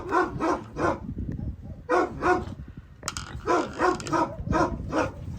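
Several dogs bark in repeated bursts, loud and close, with a few growly and whiny notes between the barks.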